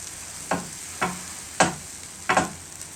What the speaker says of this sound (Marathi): आता हे जे सँडविच आहे त्याची बटर लावलेली जी बाजू आहे ती आपण ह्या पॅनमध्ये ठेवूया